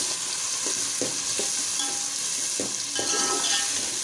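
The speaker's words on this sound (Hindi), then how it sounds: "अरबी वीवर्स हमारी गली हुई है, इसलिए हमें फिर मसाला भूनना होगा" Masala with tomatoes and green chillies frying for spicy yam, a loud continuous sizzle close by with several soft knocks and scrapes of a stirring spoon.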